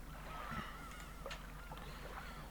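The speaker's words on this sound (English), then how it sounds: "short sound file with the birds, huh? It's over just as it's getting started." Faint honking bird calls come in a few short, uneven bursts over a quiet background.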